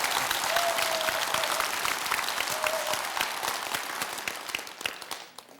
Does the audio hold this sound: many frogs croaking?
no